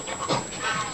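Four-week-old Bernese Newfoundland mix puppies panting close up, a quick run of soft breathy puffs over about a second, with faint whimpery tones and no talking.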